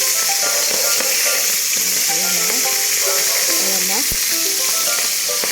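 Tasik fish fries in a pan with a loud, continuous sizzle and crackle up close, while someone talks briefly over it.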